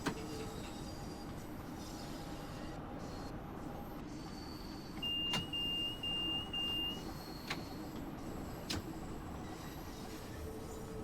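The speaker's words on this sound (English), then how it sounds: "Got another train arriving." A train pulls into a station in the Train Sim World video game, a steady rumble of rolling stock with faint wheel squeal, a short high-pitched tone and a few sharp clicks over continuous low noise.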